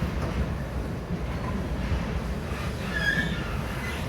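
A passenger train on the Lehigh Gorge Scenic Railway rumbles steadily along the track, a low continuous roar from inside with faint squeals of wheels partway through.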